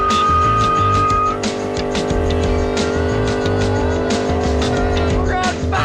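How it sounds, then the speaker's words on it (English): A car does a burnout at a Florida motorsports park, its engine held at a steady high roar while the tires squeal continuously, loud and close, with crowd noise and voices mixed underneath. "This is a burnout."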